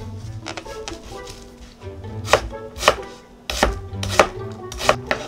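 Onions for tartiflette sliced with a knife on a cutting board, a run of crisp chops and taps of the blade striking the board in uneven rhythm, close up with no talk.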